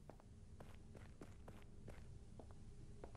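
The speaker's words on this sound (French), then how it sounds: "des fois j'ai l'impression d'entendre des bruits de pas, mais c'est juste moi qui cours" Running footsteps in the horror game BrokenLore Follow, a quick steady series of close, crisp footfalls pattering through the whole stretch over a faint ambient hum.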